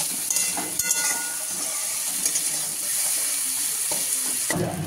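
Tomatoes fry in oil with turmeric and salt, giving a dense, continuous sizzling hiss with bright crackles and a few clattering stirs near the end. The sound is close and steady, and no one speaks.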